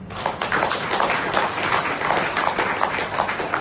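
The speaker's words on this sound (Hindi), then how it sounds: "तो मैं चाहूंगा क्या उनके सम्मान में जोरदार तालियां नहीं होना चाहिए?" A loud, dense round of applause from a seated audience at a health seminar, steady sustained clapping from many hands filling the room without a break.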